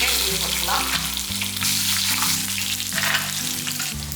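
Tamarind and garlic frying in a pan, a loud, steady sizzle that continues throughout with a low tonal hum underneath.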